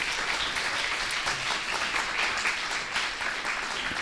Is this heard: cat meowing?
no